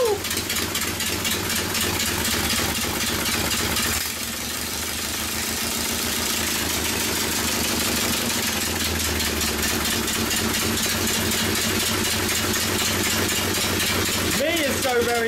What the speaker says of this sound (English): So if we richen it up like that much, hopefully that'll make it idle.